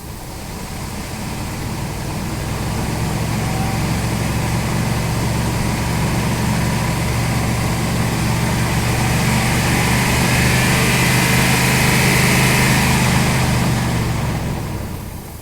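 A car engine with a flashing oil light idles, then the throttle is pressed and the revs climb to a sustained loud roar before easing back, all close by with no talking.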